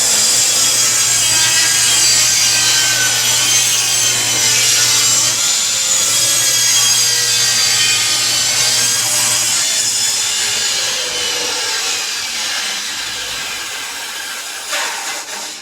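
A table saw blade rips steadily through a wooden board, a loud, continuous bright whine with a low motor hum beneath, holding for about fifteen seconds before tapering slightly as the cut finishes.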